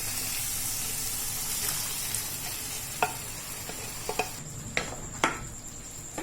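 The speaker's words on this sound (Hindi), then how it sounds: "अब इसमें हम डालेंगे छोले जो हमने बॉईल कर लिए थे" Boiled chickpeas, tipped into cooking masala with their water, sizzle softly in a pan while a spoon stirs, giving a few light scraping clicks and taps over a steady low frying hiss.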